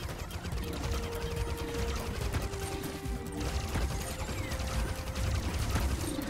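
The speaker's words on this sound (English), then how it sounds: "Thermal shock explosion." Explosions and weapon fire from the space combat game Starlink: Battle for Atlas, a thermal shock blast from combined ice and fire weapons, heard as dense, continuous crackling bursts and rumbling impacts over busy game sound for several seconds.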